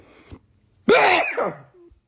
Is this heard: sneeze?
yes